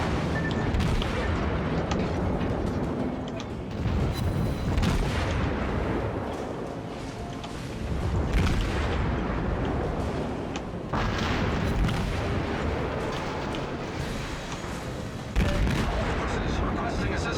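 Torpedo hits strike a warship in the naval combat game World of Warships: heavy, dense booms and blasts roll together with constant rumbling gunfire, loud and continuous with several sharper impacts standing out.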